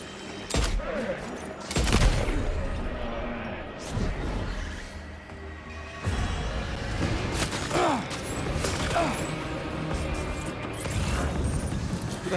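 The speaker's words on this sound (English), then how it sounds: "Who the hell is shooting at me?" Bursts of gunfire ring out in Death Stranding 2, repeated sharp cracks and volleys with clattering mechanical noise and low rumbles throughout, fairly close and loud.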